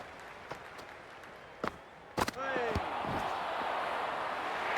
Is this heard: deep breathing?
no